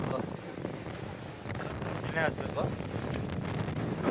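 Strong wind blows across a hilltop, a loud, continuous buffeting roar with gusts that swell and ease, as people talk nearby.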